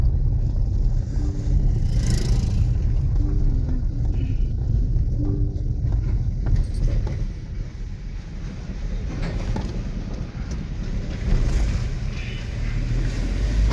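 A car drives through traffic on the road to a temple at Arwadi near Sangli. A steady, heavy low rumble of engine and road noise runs throughout, with wind buffeting and a brief dip in level midway.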